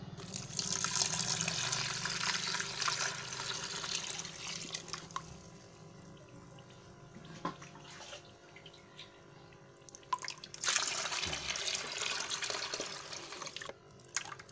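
Liquid nitrobacter culture poured onto agricultural lime, a steady watery pouring and splashing that runs through most of the stretch, with a few small clinks and drips near and fairly quiet.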